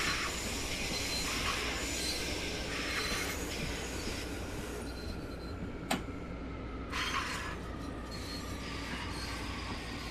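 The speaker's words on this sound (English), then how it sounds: "The train actually sounds like it's making noise now as it comes in." A Long Island Rail Road train in Train Sim World 4 rolls into Atlantic Terminal, Brooklyn, under a steady rumble, with repeated high metallic wheel squeals and a sharp clank midway; no voices.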